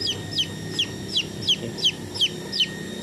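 Brahma and layer chicks cheep in a quick, regular series of high, sharp peeps, close and clear over a quiet low background hum.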